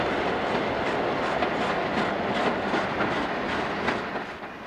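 A diesel train with four Black Widow locomotives leading and three helpers at the rear rolls along the snowy Donner Pass line, giving a steady rumbling roar with faint rhythmic wheel clatter and no voices.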